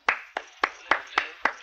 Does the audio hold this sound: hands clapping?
yes